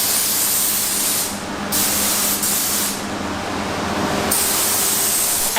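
Spray gun applying Raptor liner paint to a car, a loud close hiss in bursts with brief pauses between passes, no voices.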